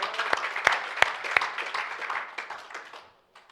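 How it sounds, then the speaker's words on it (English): A church congregation gives a clap of praise: a few sharp, distinct claps stand out over a softer, scattered patter of applause that fades out abruptly after about three seconds. "Let's give a clap of praise to the Lord."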